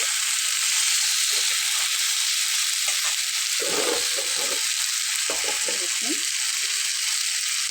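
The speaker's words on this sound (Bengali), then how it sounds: "বেগুন ভাজাটা আমার হয়ে যাচ্ছে, একদম মনের মতো গলে গিয়েছে।" Eggplant slices frying in a pan, a steady broadband sizzle running throughout, with a few soft stirring or scraping sounds in the middle; no talk.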